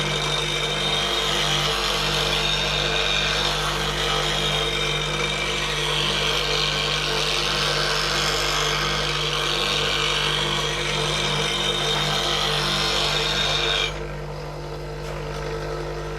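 A bench grinder reshapes a woodturning detail gouge to a 40-degree bevel, giving a continuous loud abrasive hiss over a steady motor drone that drops off near the end.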